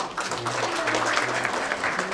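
Convocation audience at the Indian Insurance Institute in Kolkata clapping during a felicitation, steady dense applause throughout, with a low voice speaking underneath.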